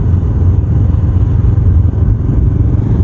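A Honda CBR 500R motorcycle rides in 17°F weather with a steady, loud low engine drone heavily mixed with wind rush, continuous and unbroken throughout.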